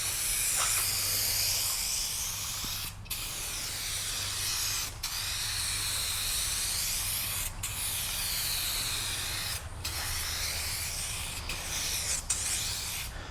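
2K aerosol clear coat sprayed as a light tack coat onto a white 1994 Fox Body car, a close steady hissing spray in several long bursts separated by short pauses.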